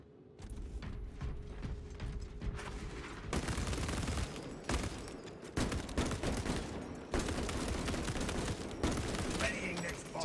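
Rapid bursts of gunfire from the video game Space Marine 2, with mechanical clatter and dense repeated shots over an action soundtrack, continuous and fairly loud throughout.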